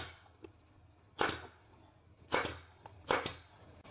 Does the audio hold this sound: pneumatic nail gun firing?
yes